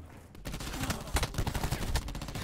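Rapid gunfire in a first-person shooter game match, dense bursts of shots and impacts filling the moment, loud and close, with little talk over it.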